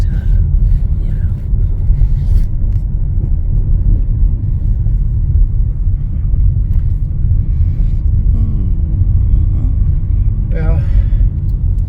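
A vehicle called the Sidewinder rolls downhill into Oatman with a heavy, steady low rumble of engine and road noise filling the cabin, while a voice speaks briefly over it.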